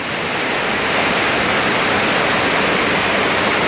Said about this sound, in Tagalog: nagsimula yung buhos ng ulan